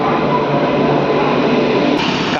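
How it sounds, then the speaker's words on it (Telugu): Kacheguda–Nadikudi DEMU train at a station, a loud, steady close rumble of the diesel multiple unit filling the whole short stretch. "ఇక్కడ వస్తుంది కదా ఈ ట్రైన్, కాచిగూడ నడుకుడి డెమో"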